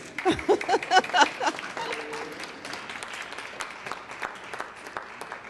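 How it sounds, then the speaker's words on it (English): An audience at a board installation event applauding, with a burst of claps and a short whoop early on, then softer scattered clapping under a murmur of voices. "Applaud."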